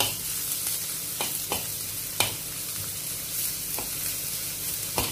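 Oil crackles and hisses continuously as food fries toward brown for arroz caldo, with sharp pops and stirring clicks scattered through a steady close sizzle and no voices.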